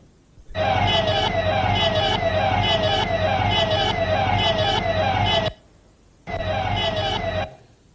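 A police vehicle's siren wails loud and close in a rapid, warbling cycle for about five seconds, cuts out briefly, then sounds again in a shorter burst.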